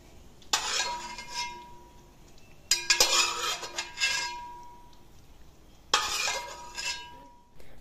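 Fried cashews are scooped from a pan into a bowl, with metal utensils and dishware clinking in three distinct bursts of bright clatter separated by quieter pauses, close by and with no talking.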